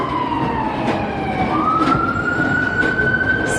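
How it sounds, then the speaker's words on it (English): Ambulance siren passing along a New York City street, a loud wailing tone sweeping down and then up over traffic rumble, heard nearby. "We're gonna let the ambulance go through."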